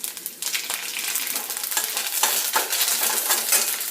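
Grated ginger and curry leaves sizzling in hot oil, a loud, close, bright crackling hiss with bursts of spitting as they hit the pan, alone without speech.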